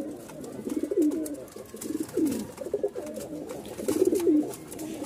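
A pigeon from a pair offered for sale gives repeated low, rolling coos, three or four clear phrases close by over light background noise.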